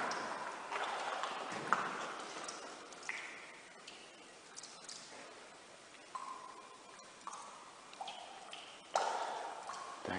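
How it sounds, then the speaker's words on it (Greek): Water drips and trickles inside an old abandoned freezing and food storage facility, producing irregular plinks and ticks with hollow echoes off the empty rooms, faint and scattered over a quiet hiss. "Τρέχουν τα νερά και ακούγεται αυτό."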